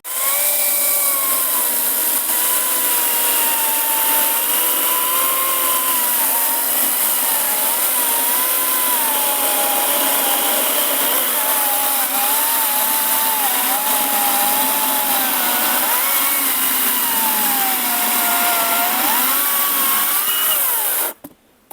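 A 35 cm bar chainsaw from a Vitals AKZ 3640s versus Grösser GCS 160 comparison makes a loud, steady whine, cutting outdoors in frost. Its pitch wavers up and down for about twenty seconds, then it cuts off abruptly at the end, with no talking.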